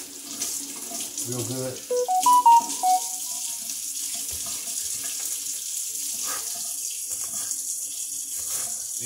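Tap water runs steadily into a sink while green onions are washed for a shrimp bowl, a continuous close hiss throughout, with a brief chime of tones and a short spoken remark early on.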